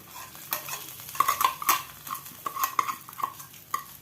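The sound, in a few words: tempering with dried chillies and curry leaves poured into tapioca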